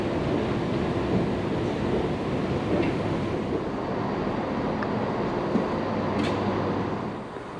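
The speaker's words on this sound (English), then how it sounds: "Here's our very first train of the day, and it's on time, folks. The 6:02 from Dundee to Edinburgh." A ScotRail passenger train on the Dundee to Edinburgh service pulls in, a steady broadband rumble of wheels and wind noise holding loud and continuous throughout, with no voices over it.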